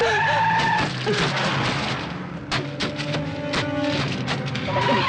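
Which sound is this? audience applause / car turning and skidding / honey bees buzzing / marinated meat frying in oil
car turning and skidding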